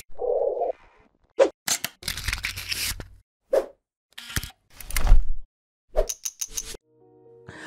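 A short sequence of quick whooshes, pops and clicks with brief musical tones, like an edited intro sting of assorted sound effects.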